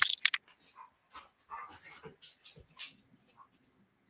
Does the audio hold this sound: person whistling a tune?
no